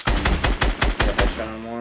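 Fortnite gunfire comes as a fast burst of about six heavy, evenly spaced shots, loud and close, ending in a ringing tail.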